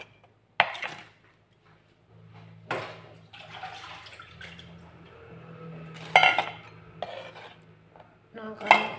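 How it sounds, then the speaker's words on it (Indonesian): Kitchen sounds of a knife thinly slicing tomatoes on a cutting board for tomato egg soup: several sharp clatters and taps against the board with quieter scraping and handling between them, close and fairly loud, no talking. "Kita potong tipis-tipis ya."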